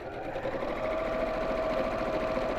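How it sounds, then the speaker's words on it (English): Steady, close whirring of a sewing machine stitching the flap of a child's drawstring backpack from the inside, running continuously without pause. "I'm just going to sew from the inside, so keeping the flap nice and flat and away from the bag"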